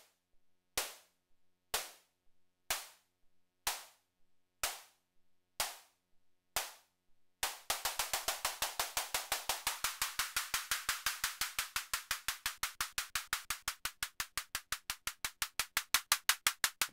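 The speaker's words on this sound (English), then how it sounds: "The rate of the LFO will adjust how fast the hi-hat is played." Synthesized hi-hat from a Behringer Neutron, noise run through a high-pass filter with short decay and release: about eight slow, evenly spaced crisp ticks, then a fast steady LFO-driven stream of bright clicks that speeds up and grows a little louder toward the end.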